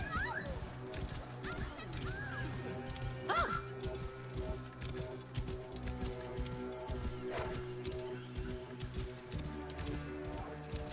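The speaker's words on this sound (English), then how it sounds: "Let the horse do the riding." Rhythmic hoofbeats of a galloping horse in Assassin's Creed Origins over a steady game soundtrack, with brief chirps and clatter mixed in.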